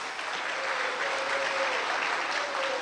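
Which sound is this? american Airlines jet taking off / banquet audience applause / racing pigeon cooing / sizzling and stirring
banquet audience applause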